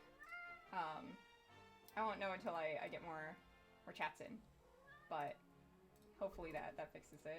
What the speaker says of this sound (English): I don't know if you can hear my cat yapping in the background.